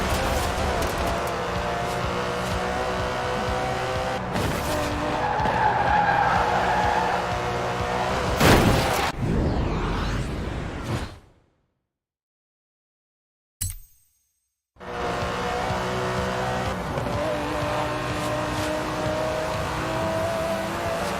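An Aston Martin DB11 with a 5.2-litre twin-turbo V12 drives in the Forza Horizon 4 racing game, its engine droning steadily and rising in revs, then cutting out into silence before resuming its continuous roar.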